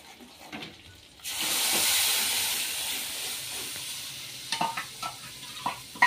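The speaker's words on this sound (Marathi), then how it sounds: "आपलं तेल गरम झालेलं आहे, तर घेऊ आपण हा मसाला टाकून।" Masala spice paste hits hot oil in a pan for an egg masala curry, bursting into a loud close sizzle that hisses steadily, followed by a few spoon clanks near the end, with no talking.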